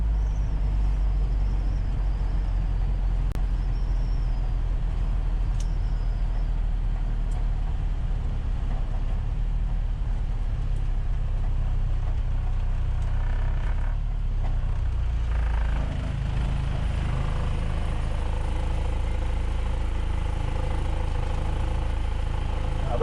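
A truck engine idles as a low, steady rumble during a windy test drive, and the tone shifts partway through as the gears change, with no talking.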